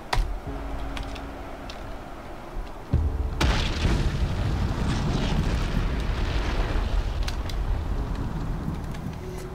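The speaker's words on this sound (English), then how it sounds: "I'm gonna help them by dropping nukes" Nuclear airstrike explosions in the Ultimate Epic Battle Simulator video game, a deep booming blast followed by a sustained loud rumbling roar, preceded by faint clicks, without speech.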